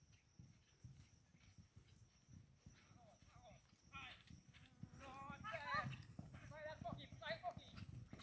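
A mare being ridden at a training session, her hooves clip-clopping in an irregular rhythm close by, under frequent talk and chatter from people around.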